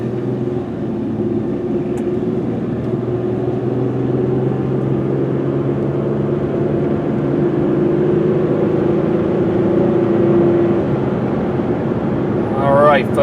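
A 2003 Chevy Malibu sedan accelerates smoothly toward 55 mph, heard from inside as a steady low engine and road drone with a slowly rising tone, and a brief voice near the end.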